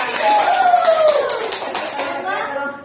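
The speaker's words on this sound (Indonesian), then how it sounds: "tepuk tangan." A class of schoolchildren claps hands together in a classroom, a short burst of scattered clapping mixed with children's voices and a faint whistle-like tone.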